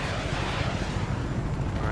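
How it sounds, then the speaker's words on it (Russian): A helicopter in the open-world action game Just Cause 3 drones with a steady, loud rotor and engine roar throughout, a dense rumbling wash with no pauses. "А, еще и вертолет."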